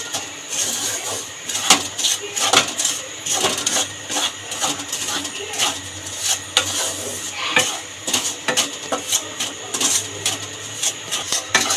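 Semolina stir-frying in ghee in a pan for halwa, with a steady soft sizzle and repeated scraping strokes of a spoon against the pan, close and continuous.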